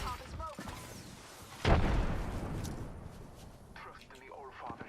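A frag grenade explodes in Apex Legends with a sudden heavy boom that rumbles off into a long decaying roar, with players talking before and after amid game noise.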